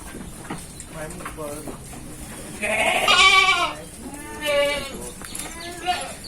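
Hungry goats and sheep on a Thai farm bleat repeatedly, several overlapping wavering calls from nearby animals, with someone talking over them.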